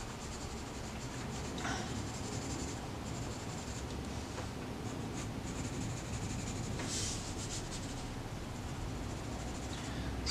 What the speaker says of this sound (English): I'm going to move to my 6B pencil